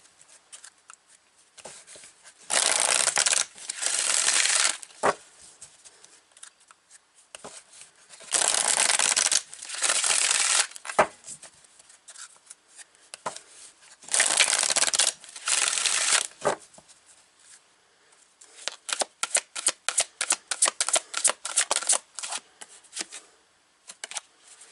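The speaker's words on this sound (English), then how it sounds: "So I'm going to pull some more cards here. This is the Queen of the Moon Oracle." Queen of the Moon oracle deck being shuffled by hand, crisp papery riffling in several bursts separated by quiet pauses, ending in a run of rapid card flicks, close and clear with no speech.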